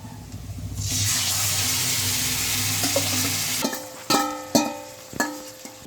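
Marinated mutton goes into a pan of browned onions: a loud, steady sizzle swells and holds, then gives way to a few sharp clanks of a utensil against the pan while frying continues.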